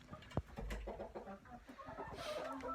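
Chickens clucking softly inside a coop at night, a few close, low calls scattered across a couple of seconds along with light rustling and shuffling.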